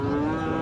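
A Sahiwal bull calf, about eight or nine months old, at a busy rural cattle market gives a single short, steady, droning moo, loud and close.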